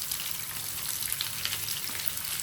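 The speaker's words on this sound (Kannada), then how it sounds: "ಕರಿಬೇವು ಚೆನ್ನಾಗಿ ಫ್ರೈ ಆದಮೇಲೆ ಈರುಳ್ಳಿ ಹಾಕ್ಕೊಳ್ಳಿ" Onions and curry leaves fry in hot oil in a pan for chitranna, giving a steady, close crackling sizzle with no talking.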